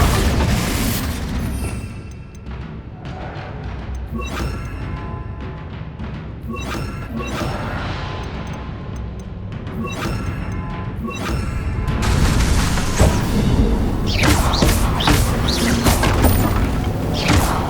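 Confringo and Bombarda spell blasts in Hogwarts Legacy, going off as repeated booming explosions with crashing debris and whooshes, loud and close, with a dense cluster of blasts toward the end.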